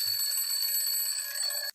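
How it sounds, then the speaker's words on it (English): An alarm bell rings continuously, a steady bright electric ringing that runs alone at a fairly even level for nearly two seconds before cutting off abruptly. "That's Clarky's alarm bell going off."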